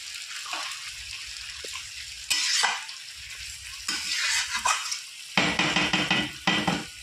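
Mutton and spices are stir-fried in a pan, sizzling steadily while a spatula scrapes and stirs in repeated bursts, near and fairly loud, with no voices.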